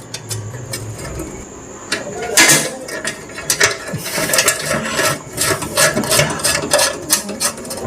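A nut and washer tightened on an ITI fitter hydraulic JCB model project, heard as close metallic ratcheting, clicking and scraping in irregular bursts, loud and busy with no talk.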